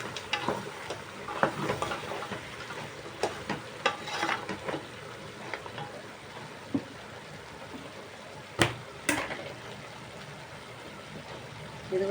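Food frying in a pan on a home stove is stirred with a spoon, soft scraping and clinks over a low sizzle, with a couple of sharper knocks near the end.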